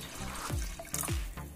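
Water being poured into a pot of mutton paya curry after pressure cooking makes a short, quiet splashing pour with a couple of gurgling drops.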